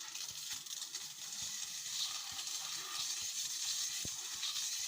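A water spray hisses steadily while a motorcycle is being washed, a bright, fairly faint rushing jet with a few small knocks and clicks underneath.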